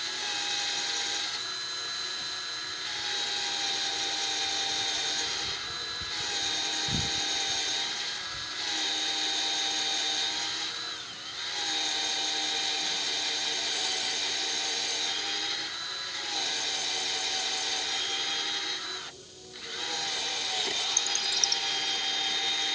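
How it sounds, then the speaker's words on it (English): A steady high-pitched whine from a small Craftsman power drill runs continuously with slight pitch dips, brief pauses, and a few faint clicks near the end. "That's just a little Craftsman drill"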